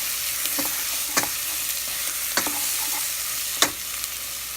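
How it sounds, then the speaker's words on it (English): Goat trotters (paya) sautéing with garlic on medium heat, a steady dense sizzle broken by several sharp utensil scrapes and knocks against the pan, with no voices. "And I'll saute it for another 2 minutes"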